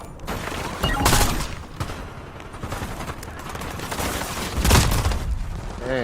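Sniper and other gunfire in the Black Ops 7 beta during a hard point match, a dense spread of shots with a couple of louder booming cracks near the start and again toward the end.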